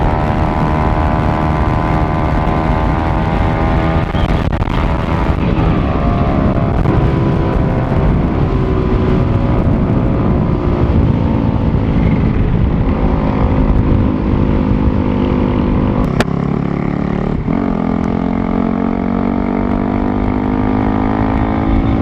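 A modified Yamaha R15 V3 motorcycle fitted with a Toce aftermarket exhaust, riding on the road, its loud buzzing exhaust note rising and falling through gear changes, close and continuous throughout with wind rush.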